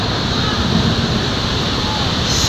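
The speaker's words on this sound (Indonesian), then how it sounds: "ini dia air terjun Lembah Anai" The Lembah Anai waterfall in West Sumatra, heard as a loud, unbroken roar of falling water that fills the scene with steady broadband noise, with no speech over it.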